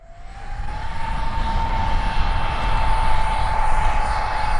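A 3D-printed radio-controlled Martin P6M SeaMaster model jet with electric ducted fans flies overhead, its steady high-pitched turbine whine holding over a continuous rushing roar that swells slightly as it passes, with no voices.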